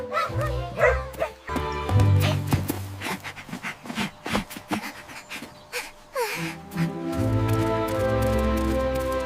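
A dog yips, barks and whimpers excitedly outdoors, with quick, irregular bursts close by while children shout and talk around it.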